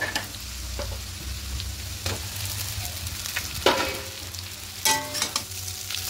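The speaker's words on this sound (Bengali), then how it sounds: "সবগুলোকে মিশিয়ে নেব। মিশিয়ে একটু হালকা করে ম্যাগিটাকে ভেজে নেব।" Maggi noodles stirred and fried in a pan with browned potato and onion, a steady low sizzle under repeated scraping spatula strokes and a few louder clatters toward the end, close and without talking.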